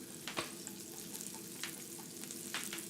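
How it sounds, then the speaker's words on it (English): Carrots sautéing fast in a very hot pan give a steady, fairly soft sizzle with a few scraping stir sounds and no voices over it. "the speed version of sauteing. This is just ripping, and I hope it's not interfering with the mic"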